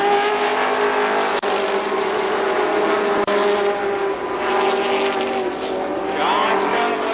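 ARCA Pro 4 race cars at Columbus Motor Speedway make a loud, steady engine drone that shifts in pitch as they pass, with a commentator talking over the racing throughout.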